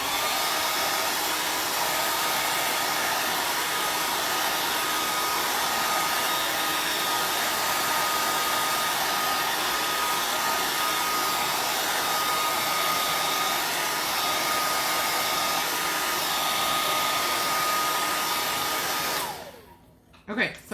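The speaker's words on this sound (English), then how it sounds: "Let me hit this with the dryer real quick here before we do the next part." A hair dryer blows steadily and loudly to dry paint on a wooden striped door hanger, a constant whooshing drone that cuts off abruptly near the end, leaving brief handling noise.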